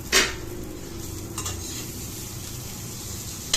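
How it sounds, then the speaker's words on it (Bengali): A cube of garlic butter melting in a hot pan gives a steady sizzle, broken by a few louder scraping stirs near the start, in the middle and at the end. "এই যে গার্লিক বাটার গলতে শুরু করেছে"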